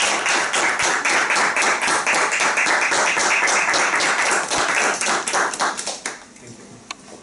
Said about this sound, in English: join me in giving an applause to the CSC Chennai Toastmasters for their presentation